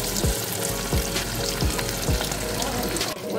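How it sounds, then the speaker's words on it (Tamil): Marinated quail deep frying in hot oil at a roadside stall, a steady dense crackle and sizzle filling the whole stretch with a few soft utensil bumps, close and loud throughout. "இப்போ மேரினேஷன் பண்ணி வச்ச காடையை ஆயில்ல இப்போ நம்ம அதை டீப் ஃப்ரை பண்ணிக்கலாம்."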